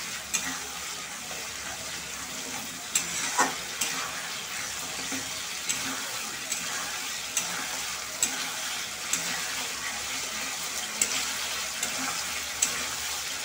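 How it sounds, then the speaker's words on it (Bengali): Potatoes and spices sauté in a pan for Bengali dhokar dalna: a soft, steady frying hiss punctuated by regular light taps of a spatula against the pan. "এগুলো দিয়ে ভালো করে কষিয়ে নিতে হবে"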